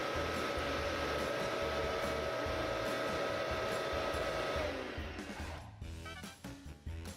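Air from a blower streaming over a rectangular block in a kids' drag experiment: a loud, steady hiss and rush that suddenly cuts off and dies away, leaving faint rattling.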